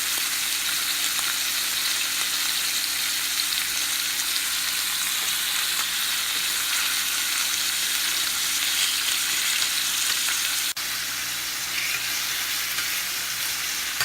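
Chicken pieces fry in a pan for pepper chicken gravy, giving a continuous loud crackling sizzle close by, steady throughout with a faint clink near the end and no voices.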